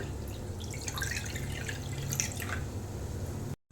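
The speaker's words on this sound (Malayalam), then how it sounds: "നമുക്ക് ഈ പുളിനീര് ഒഴിച്ചു കൊടുക്കാം" Tamarind juice poured into a clay pot while making Kerala pachapuli rasam, a soft steady liquid trickle and dripping under a low background hum, fading out at the end.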